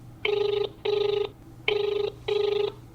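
A telephone rings for a radio farmers' phone-in programme, two double bursts of an electronic trill, each a pair of short rings with a brief gap between the pairs, clear and close over a low hum.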